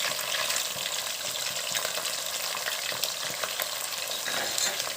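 Crushed ginger, green chilli and onion sauté in a pan, a continuous close hissing sizzle with scattered soft scrapes of stirring, alone without voices.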